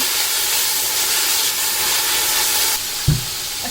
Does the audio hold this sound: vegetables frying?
yes